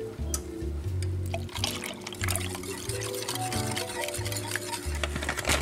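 A cup of milk pours into batter for an apple butter Dutch baby, a steady liquid trickle close up over a low, pulsing hum, continuous throughout without speech.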